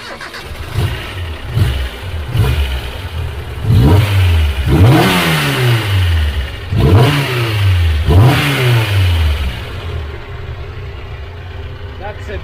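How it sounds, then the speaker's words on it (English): A Datsun Stanza with an L20B engine revs on a dyno in a series of loud, rising-and-falling pulls of growing length, then idles down near the end, with a voice talking over it. "Always love the roar of the L20 engine."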